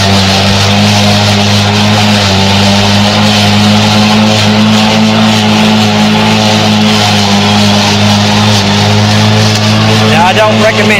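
A Black & Decker cordless battery-powered electric mower drives forward with a loud, steady electric motor whine and a low drone throughout, close by. The pitch holds even with only a slight shift near the end, and no one speaks over it.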